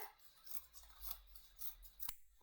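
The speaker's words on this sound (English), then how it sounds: "I'm going to trim that bit off there" Scissors snip through paper for a collage in a quiet room, several soft close cuts in an irregular rhythm with one sharper snap near the end, and no talk.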